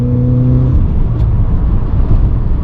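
Engine of a car with a low battery that barely started, idling with a rough low rumble, steady and close, with a brief tonal hum at the start.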